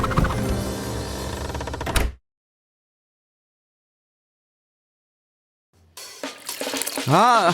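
Water splashes and pours for a couple of seconds, then silence, then more trickling and gurgling liquid returns.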